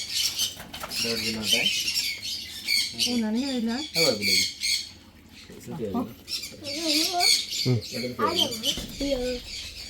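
Harsh, repeated squawks from several birds close by in a bird park at Kartikulam, coming in bursts with short pauses, plus some high chirping and rustling.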